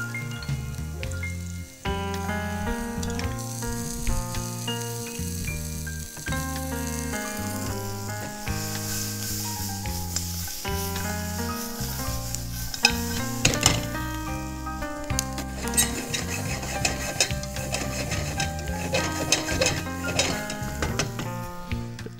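Crispy fried pork, added to a hot pan with chili pepper pork, sizzles and is stirred in a steady, continuous frying hiss, with loud melodic music playing over it the whole time.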